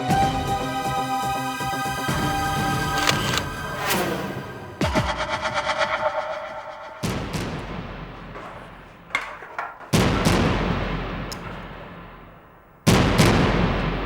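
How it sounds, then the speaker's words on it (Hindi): Gunfire in a dramatic scene as a shot is fired at a photo cell, several sharp loud bangs and heavy impacts with abrupt cutoffs, interleaved with tonal music-like sound. "तुम इस फोटो सेल पे एक बार और फायर करके देखो"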